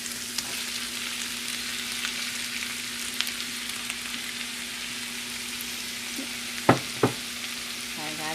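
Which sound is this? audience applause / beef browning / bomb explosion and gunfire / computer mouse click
beef browning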